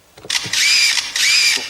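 A bird mimics a camera shutter: two bright electronic-sounding whirring chirps, each lasting about half a second, close and clear.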